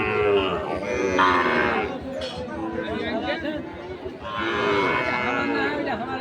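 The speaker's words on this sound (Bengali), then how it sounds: "আজকে আমবাড়িহাটের সাইবল জাতের বাছুর এখানে আরেকটি দেখছি" Sahiwal breed cattle at a livestock market low and moo amid a busy crowd, with several people talking close by over the steady background chatter.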